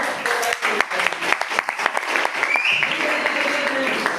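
An audience claps in a steady burst of applause, many hands patting close and fairly loud for several seconds, with a faint voice underneath.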